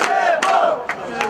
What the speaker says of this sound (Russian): На улице все это время громко и яростно протестует толпа.